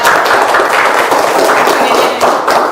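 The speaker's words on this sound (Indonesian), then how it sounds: "Ya, tepuk tangan dulu." A classroom of pupils claps hands together during a lesson, loud, close, rapid clapping that stays steady throughout the short burst.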